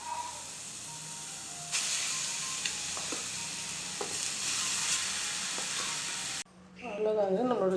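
Rice tipped into a hot frying pan for Tamil-style gooseberry rice and stirred, with a steady loud sizzle and hiss, scraping stirs throughout, then a sharp drop near the end before a voice speaks.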